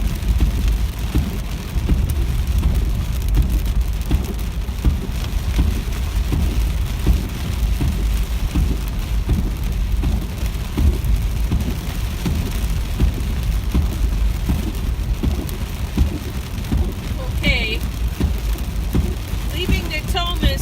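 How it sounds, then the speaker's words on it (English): Sleet changing to rain falls steadily while driving along West El Camino into Del Paso Heights in April, a dense continuous patter against the vehicle, loud and close throughout with a few brief higher clicks near the end. "it looks like the sleet is slowly turning into rain"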